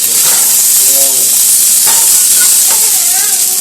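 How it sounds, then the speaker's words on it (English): Diced potato dropped into a hot pan, producing a loud, dense, steady sizzle close up, with faint tonal squeaks and clinks over the hiss. "I'm going to toss in my diced potato."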